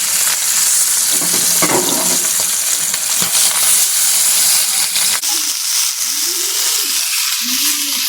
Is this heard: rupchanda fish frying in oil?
yes